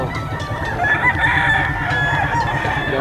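Young roosters, stags that are still immature, crowing close by in a farmyard pen. Several overlapping crows and clucks fill the whole stretch at a steady, fairly loud level, with no talking.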